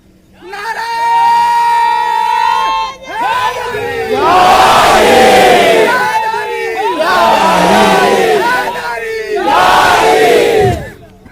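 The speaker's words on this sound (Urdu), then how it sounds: "نعرے کی توہین نہیں ہونا چاہیے. یا تو سب لگائیں یا تو کوئی نہ لگائے." A large crowd at an outdoor religious gathering in Dhoraji bellows slogans in unison, in several loud surging bursts separated by brief pauses.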